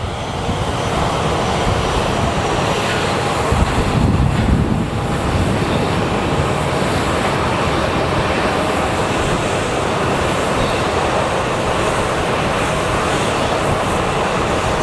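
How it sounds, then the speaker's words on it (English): An airliner coming in to land at Sky Harbor Airport after a go-around produces a loud, steady engine roar that fills the whole stretch. A brief swell comes partway through, and no speech is heard. "our go-around is coming back for a landing"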